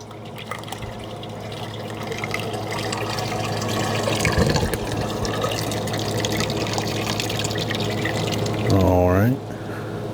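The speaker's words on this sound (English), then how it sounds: "So we're gonna pour our product right into there." Vegan ice cream mix pours into the large fill mouth of an ice cream machine, a continuous liquid splash under machine hum, while a person talks over it.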